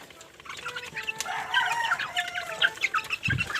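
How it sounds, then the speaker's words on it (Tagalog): Chickens and young chicks on a farm cluck and peep continuously, with a busy overlapping chorus of high chirps and clucks close by, and a brief low thump near the end. "So, ito yung mga quality na sisiw."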